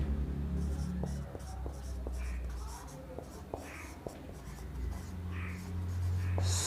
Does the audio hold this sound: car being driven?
no